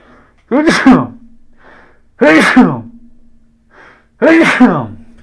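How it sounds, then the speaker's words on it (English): Three loud, close sneezes from a man during a football talk show, each preceded by a short sharp intake of breath and separated by brief quiet gaps. "oh my goodness, I gotta sneeze here."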